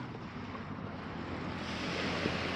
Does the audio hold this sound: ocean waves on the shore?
yes